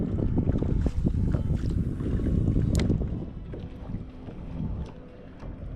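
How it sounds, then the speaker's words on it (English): Wind gusts across open water around a kayak, a steady broad roar with buffeting against the microphone that swells, then gradually eases, with small splashes and paddle knocks underneath. "Here comes the wind."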